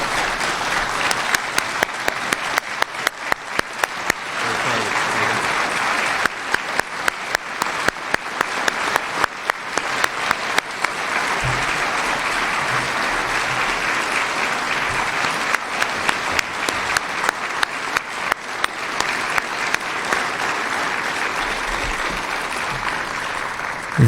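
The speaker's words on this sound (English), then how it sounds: "I would like to ask guests to join me in a round of applause for Mayor Jim Watson." An audience at an evening investiture ceremony for the Order of Ottawa applauds steadily for about twenty seconds, the clapping dense and sustained with a few louder, sharper bursts along the way.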